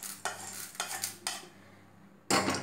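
Dry black peppercorns and toor dal are stirred and scraped in a pan while roasting, with a few rhythmic rasping strokes, a pause, then another scrape, under a faint steady hum.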